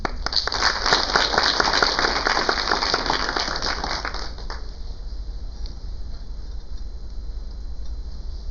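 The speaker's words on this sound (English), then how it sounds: "Please give a warm round of applause" Audience applause at a tech user group launch event, a dense patter of clapping lasting about four seconds, then dropping to a low room hum.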